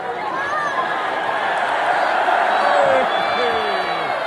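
UK arena crowd at a WWE SmackDown event reacting to Blake Monroe's debut, recorded from the stands: a steady, loud wash of chatter and cheering with scattered whoops, continuous and nearby throughout.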